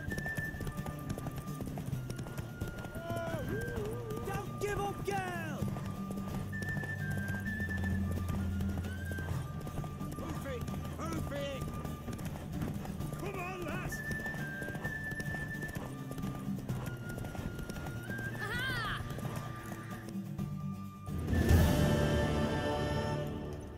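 Horse hooves clip-clop repeatedly through a Witcher 3 video game scene, with occasional whinnies and snorts layered over steady game music and ambience, then a louder burst of movement near the end.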